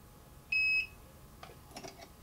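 A Hornady Auto Charge electronic powder scale gives one clear electronic beep, then soft clicking and whirring as it dispenses a 7.6 grain charge.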